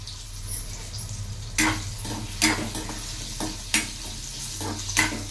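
Cut potatoes fry in a pan, a steady sizzle broken by repeated clatters as the pieces are stirred and tossed, several scraping bursts spread across the stretch.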